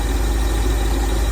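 A 1978 Ford F150 engine runs after a timing adjustment, a loud, steady low rumble with an even idle throb close by and no voices.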